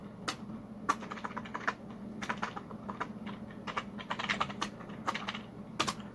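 Someone typing a MySQL query on a computer keyboard, irregular quick clicks and taps of keys at close range, quiet, with brief pauses between bursts and no speech.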